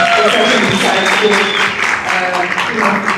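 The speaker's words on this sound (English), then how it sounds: "Can you just give them a round of applause for such an insightful" Audience at a film and tourism panel applauding, a loud sustained patter of clapping with faint tonal sounds and a hint of voices beneath it.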